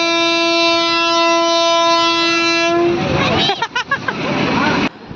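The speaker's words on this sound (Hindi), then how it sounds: "इस वाले झूले की आवाज़ बहुत ज़्यादा थी, डायनासोर वाले झूले की, तो सावी के कान मैंने बंद करने के लिए बोल द" A loud sustained horn-like blare cuts off into clattering mechanical rattling and bursts of noise from a dinosaur ride at a fair in Noida, with people's voices mixed in.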